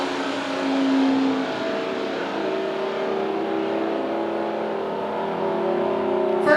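Drag racing cars, a 48 wagon and a 66 Oldsmobile, roar loudly at the line with sustained engine revving and droning exhaust tones that hold steady throughout.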